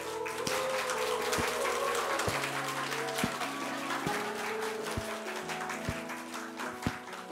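Applause for a birthday celebration fills an indoor gathering with dense, steady clapping from a crowd, with a few louder individual claps and some faint voices underneath.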